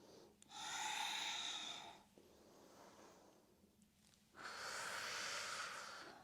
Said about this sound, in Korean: 숨 들이마시고 내쉬고 반복.